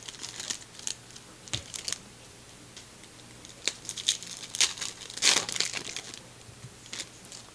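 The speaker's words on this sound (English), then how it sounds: "Opening the packs from AMC" Foil wrappers of Topps The Walking Dead trading card packs being torn open and crinkled, in scattered sharp rustles and tears at close range, with no talk.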